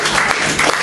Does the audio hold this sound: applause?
yes